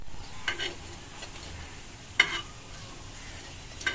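Pakoras fry in a pan for an iftar meal, giving a faint, steady sizzle broken by a few soft scrapes and clinks of stirring.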